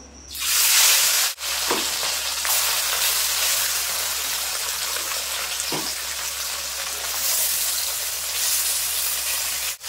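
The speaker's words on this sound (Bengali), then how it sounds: "এখন দিয়ে দেবো তেল, সরষের তেল দিয়ে দেবো মাছ ভাজার জন্য" Small bata fish fry in hot mustard oil in a heated wok, giving a loud, continuous crackling sizzle throughout, broken by a couple of brief sharp clatters.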